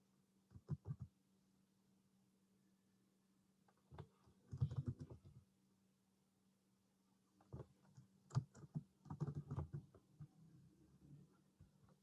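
Bursts of keystrokes on a computer keyboard, with short clicky typing runs separated by pauses of near silence, close and fairly quiet.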